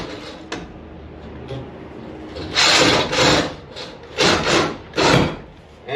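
A Sawzall cuts a doorway opening through a wood wall, a rough buzzing rasp running throughout with several louder surges as the blade bites, close and without talk.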